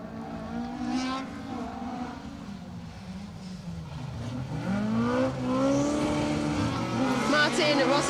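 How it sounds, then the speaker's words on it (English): Rally cars on a closed stage of the Menai Stages rally, engines droning and revving at mid distance with rising pitch sweeps as they pass, growing louder toward the end, with commentary voices underneath. "Martin Rossiter and Ian Davis in their RS there. Really going for it."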